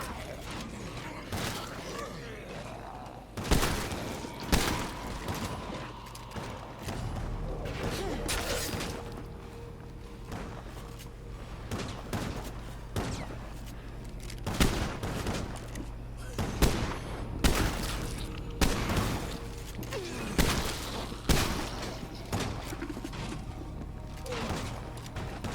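Repeated shotgun blasts in the video game State of Decay 2, loud sharp bursts spaced irregularly over steady game background noise with mechanical reloading clicks between shots.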